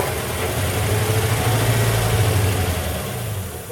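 A 1940 Buick straight-eight engine fires up after 30 years of sitting, running as a rough, loud, rumbling low idle that swells and then fades slightly, heard close with no talk.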